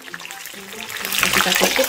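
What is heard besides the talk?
chillies and tomatoes frying in hot oil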